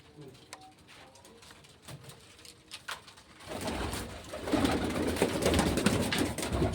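Pigeons coo softly at first, then a denser, louder chorus of cooing and rustling builds up nearby.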